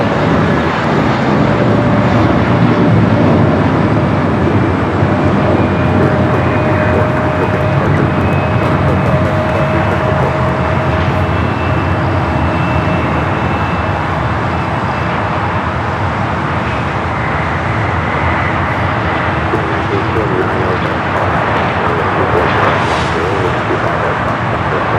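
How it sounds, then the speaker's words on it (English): A Boeing 777 freighter inbound from Taipei lands at Los Angeles International Airport, its broad, steady jet roar running loud and continuous throughout, with faint traffic-like rumble mixed in. "777 freighter coming in from Taipei."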